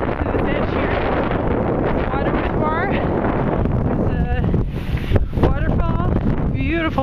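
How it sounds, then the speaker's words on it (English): Strong wind buffets the microphone high on a mountain beside a waterfall, a loud continuous roar with gusts, while voices talk over it throughout. "It's quite windy up here, but beautiful, well worth it."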